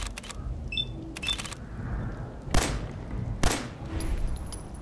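Gunfire in the video game Fallout 4: two sharp, loud broadband shots spaced about a second apart, with scattered clicks and small beeps over a steady low game rumble.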